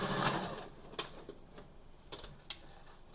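A sewing machine tacks down the folded zigzag edge of a cloth cover mask, its needle ticking in short quick bursts, quiet and close, with no talking.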